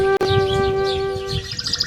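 Morning birds chirp in bright, high tweets over a steady tonal backdrop, with one sharp click near the start and livelier calls toward the end.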